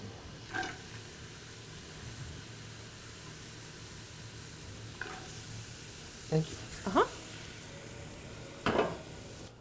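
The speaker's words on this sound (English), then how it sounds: "It's a nice sizzle." Steady low sizzling from a hot pan runs throughout, with brief voices and a few clinks of utensils over the top.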